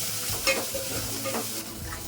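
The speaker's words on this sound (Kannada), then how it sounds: "ಒಂದು ಐದು ಹಸಿಮೆಣಸಿನಕಾಯಿ ಮತ್ತೆ ಜಜ್ಜಿಟ್ಕೊಂಡಿರೋ ಅಂತ ಬೆಳ್ಳುಳ್ಳಿ ಅದನ್ನು ಕೂಡ ಇವಾಗ ಚೆನ್ನಾಗಿ ಫ್ರೈ ಮಾಡ್ಕೋಬೇಕು" Green chilies and crushed garlic fry in a pan, giving a steady close sizzle with brief stirring scrapes throughout, no voices.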